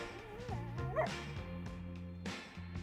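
Dog yips and whines up close, a string of short high bow-wow calls with whimpering over a steady background hum of music.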